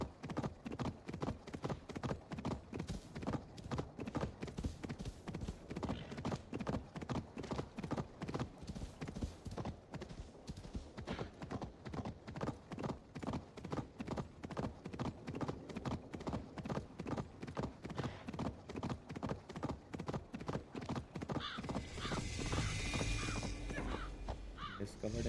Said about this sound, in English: the horse will be able to run